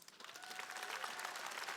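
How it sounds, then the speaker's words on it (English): Audience applause at a 2016 presidential election forum: a brief, fairly faint burst of dense clapping from a crowd. "give yourself a round of applause"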